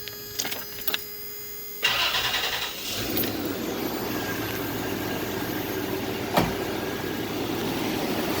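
A second-generation Toyota 4Runner with a 3VZE engine and an upgraded CS144 alternator starts up: a short starter crank, then the engine catches and settles into a steady, close idle.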